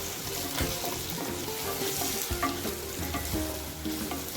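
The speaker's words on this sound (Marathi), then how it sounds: "आता हे चांगलं मिक्स करायचं आपल्याला." Spoon stirring onion masala and turmeric frying in a pan for paneer bhurji, a steady sizzle with scraping and clinking strokes throughout, close and continuous with no talk.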